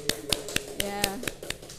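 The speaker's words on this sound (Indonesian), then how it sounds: "tepuk tangan untuk Mbak Niken" Rhythmic unison clapping in a classroom, sharp evenly spaced claps about four per second with a faint voice running underneath.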